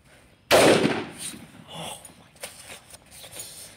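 An SGL 12 gauge shotgun fires a single sharp, loud blast that booms close by and trails off in a rough echo, followed by faint rustling.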